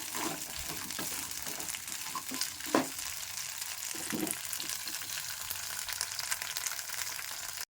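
Green chillies fry and sizzle steadily in a pan with oil, with occasional scraping clinks of a spoon stirring them, continuous and fairly soft throughout.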